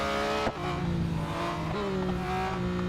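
A 2021 Porsche 911 GT3 race car in Real Racing 3 overtaking a slower car, steady high engine whine with shifting pitch as the gears change, a continuous near drone with no talk.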